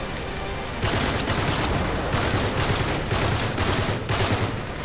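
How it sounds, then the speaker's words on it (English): Enemy shotgun fire in Uncharted 3 during a firefight, a dense string of loud, close blasts in irregular bursts, with other gunfire mixed in and no talking. "Oh, who is shooting me with a shotgun?"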